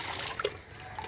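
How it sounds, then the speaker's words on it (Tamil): Homemade liquid solution poured from a container onto brinjal plants in a home vegetable garden, a soft close splash and trickle lasting about a second. "இப்போ பாருங்கள், கத்திரி செடிக்கெலாம் ஊற்ற போகிறேன்."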